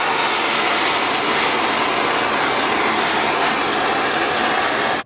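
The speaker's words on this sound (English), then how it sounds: "So I'm just going to go ahead and heat up the back also and just kind of post heat these front welds." A welding torch heats and post-heats fresh welds on a Jeep XJ Cherokee build with a loud, steady roaring hiss that holds unbroken for about five seconds before cutting off.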